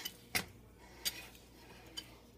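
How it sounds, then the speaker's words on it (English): Metal whisk knocking against a bowl while stirring self-rising flour and sugar, three sharp, sparse clinks spaced about a second apart over a quiet room hush. "I want to take my whisk and just kind of do it around"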